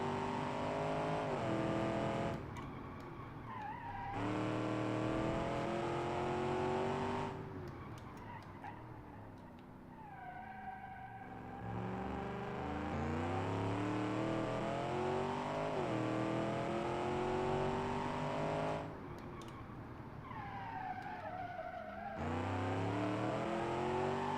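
Simulated car engine in BeamNG.drive, an Automation-built car, revving up and down through repeated gear changes with rising and falling pitch, loud and continuous, with brief tire noise as it corners.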